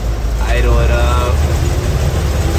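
A Gleaner L2 combine engine runs near and loud with a deep, steady rumble as it is throttled up from idle, with a short rising whine partway through and a voice speaking over it.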